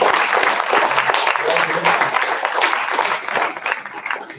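Loud, sustained applause fills a school board meeting as wrestling team members stand to be recognized, with dense clapping throughout and some voices mixed in.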